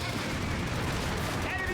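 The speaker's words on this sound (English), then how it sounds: "Running straight into that machine gun." Dense machine gun fire with artillery and explosions from the Company of Heroes 3 strategy game, a continuous loud battle din with no pause.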